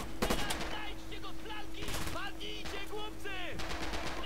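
Bursts of gunfire from the World War II shooter Red Orchestra 2 crack through a busy battle, with rapid shots and distant explosions over a constant background hum while someone talks over it.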